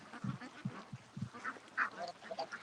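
Faint ducks quack repeatedly in a short irregular series, with soft chirps and background noise, heard from a distance.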